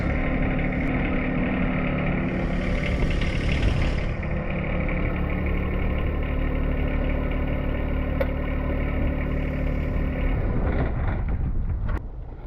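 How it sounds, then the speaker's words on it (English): A tractor engine runs at a steady, even idle-like drone while the machine backs up in a yard. It is loud and continuous, with wind buffeting the microphone and no talking. "maybe I need to back the tractor up some so it's not sitting in this low spot"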